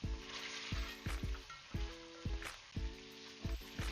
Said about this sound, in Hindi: इसको भूनते हुए ऑयल में मुझे 3 से 4 मिनट हो गए।